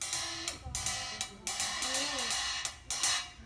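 A cymbal played softly in a light repeating pattern of gentle strokes, several quick taps with shimmering wash between them, fairly quiet and without talk.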